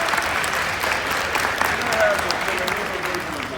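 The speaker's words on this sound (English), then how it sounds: "everybody give a round of applause for this" A crowd applauds at a Milford Mill High Academy event, with sustained loud clapping that builds slightly and then holds steady, dense and close, with some cheering mixed in.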